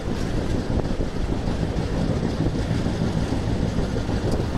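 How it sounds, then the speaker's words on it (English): 18006 Express train running after leaving Koraput station, a steady loud rumble of wheels and carriage with wind noise, continuous throughout with no talk. "So the train has left Koraput station and it's going through fantastic some twists and some great turnings"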